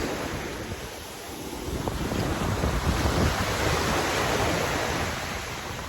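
Ocean waves roll onto a white-sand beach on Egypt's North Coast, a continuous broad surf roar that swells toward the middle, mixed with wind buffeting the microphone and no voices.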